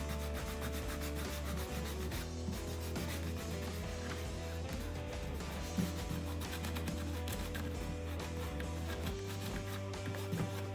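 Dried liquid latex being rubbed off a painted Stormtrooper helmet, a steady rhythmic scrubbing of repeated strokes, close and quiet, over a continuous background hum, with no voices.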